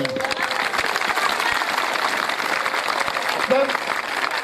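Crowd applause at a Şehriman camel play (deve oyunu), a Turkish folk performance: a dense, steady patter of clapping that runs throughout, with voices carrying over it.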